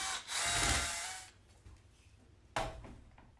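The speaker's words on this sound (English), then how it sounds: "your screw, your power drill," A power drill drives a screw tight through an aluminum rod while a two-layer grow-out pen is assembled: a loud whirring burst, quiet handling, then a second short burst.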